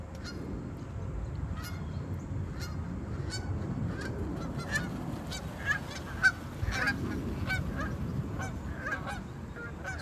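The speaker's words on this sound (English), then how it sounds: "That's a gaggle of geese flying around here." A gaggle of geese flying around outdoors keeps up a steady chorus of honking, many overlapping calls at moderate distance over a low rumbling background.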